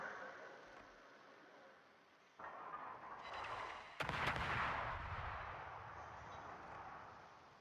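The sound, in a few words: warship guns firing in a naval video game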